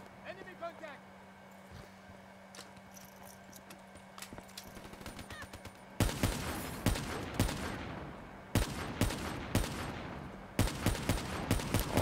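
Gunfire in the video game Call of Duty Black Ops 3: sharp bursts of rapid shots in three loud volleys after a quieter stretch of ambient game sound, with a player talking.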